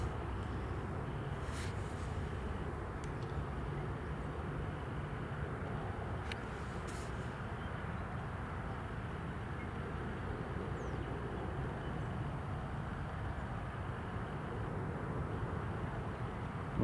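A Ryanair aircraft at Newcastle International Airport gives a continuous low rumbling roar at moderate distance, steady throughout, with faint brief clicks and no talk.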